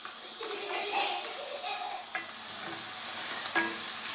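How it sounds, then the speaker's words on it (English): A ten-spice blend sautéing in a pan for fish in tomato sauce, giving a steady close sizzle with occasional stirring scrapes and clinks, no talk. "I'm adding a bit of my 10 spice blend to saute"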